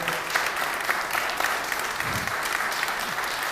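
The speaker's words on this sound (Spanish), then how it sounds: "Un fuerte aplauso." A crowd gives steady, loud applause at a ceremony honouring the protagonists of a combat, the clapping dense and even throughout with no voices on top.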